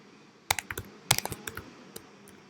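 Rapid irregular keystrokes on a computer keyboard while code is being typed, close and clear, coming in two short bursts of clicks against a quiet room background, no voices.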